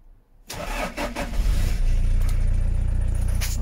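A left-hand-drive Volkswagen Multivan engine cranks and catches after a brief silence, then settles into a loud, steady idle with a light rev, close by and with no talking.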